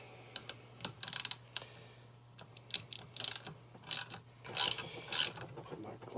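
Ratchet tightening on a Chevrolet LS 5.3 engine's valve spring tool: bursts of rapid clicking pawl strokes, close and crisp, repeat in short irregular runs over a low steady hum, with no talking.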